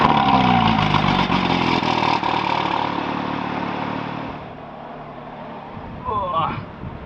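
A Porsche GT3 fitted with a full iPE F1 exhaust revs loudly close by, the sharp engine note sweeping and then settling into a lower rumble, with a person's voice briefly over it near the end.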